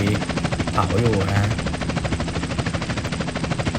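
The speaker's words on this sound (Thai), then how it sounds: "อันนี้เหมือนจะมีเฮลิคอปเตอร์นะครับ" A helicopter in the video game GTA San Andreas gives off a loud, steady rotor chop and engine drone throughout, with someone talking over it.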